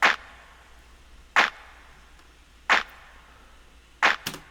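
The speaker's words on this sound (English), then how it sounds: "And then we have our clap." Isolated clap sample from a lofi hip-hop beat, four sharp, crisp hits evenly spaced about a second and a half apart, with a fainter echo-like flick trailing the last one.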